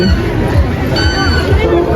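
Crowd at a village jatra fair in Kharbav, a steady murmur of many voices and general bustle close around, busy and continuous.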